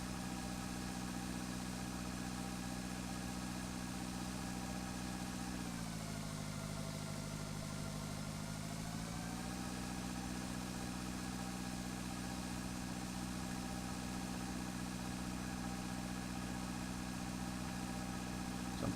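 Tractor engine idling in the farming video game Pure Farming 2018, a steady low mechanical hum with a brief dip in pitch partway through, running alone without any talk.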